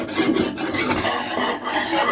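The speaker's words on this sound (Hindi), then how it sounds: "आपने एक चम्मच मुसलसल चलाते रहना है इस तरीके से" A spoon is stirred steadily through thickening homemade khoya in a pan for carrot halwa, making a continuous close scraping and rubbing texture with no pauses.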